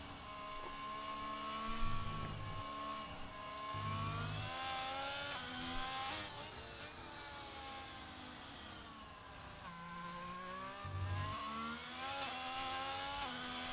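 Alfa Romeo Formula 1 car in a racing video game at the French Grand Prix, a faint steady high-revving engine whine with pitch sweeps as it shifts through corners, continuous and without voices.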